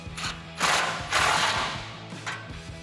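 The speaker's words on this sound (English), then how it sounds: "grab your 16mm socket to tighten down your smaller bolt and 16mm wrench" A socket ratchet tightens a bolt on a tubular off-road front bumper of a 2013-2018 RAM 1500 4x4, producing close mechanical clicking bursts with short pauses between strokes.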